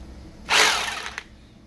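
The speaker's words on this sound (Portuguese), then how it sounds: "Esse é um martelete Bosch." A Bosch GBH 2-24D rotary hammer drill gives a single short burst of running, a loud whirring roar that starts abruptly and lasts under a second before cutting off with a faint click, in a quiet room.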